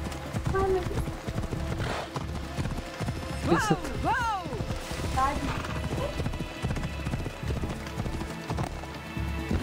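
Horse hooves galloping in the Assassin's Creed Odyssey video game, a steady clip-clop rhythm under game music and effects, with a horse whinnying midway and a player talking.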